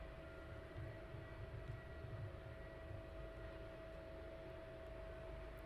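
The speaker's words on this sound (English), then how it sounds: "Jane, your 757's taxiing towards us" A Boeing 757 taxiing at East Midlands Airport at night, a steady low engine rumble and hum with a faint whine, continuous and moderately distant.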